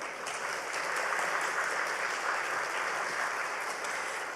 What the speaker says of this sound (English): a warm round of applause again